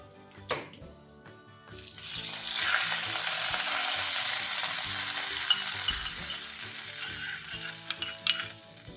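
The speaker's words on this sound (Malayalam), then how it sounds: "ജീരകം പൊട്ടുന്നതായിട്ടില്ലേ." Cumin seeds sizzling in hot ghee, a bright crackling hiss that rises after a couple of faint clicks and holds steady for several seconds, alone without speech.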